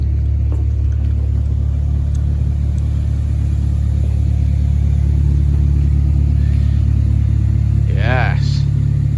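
A Mitsubishi GTO twin turbo engine idles in a workshop with a loud, steady low rumble throughout, and a short rising whine or squeal comes near the end.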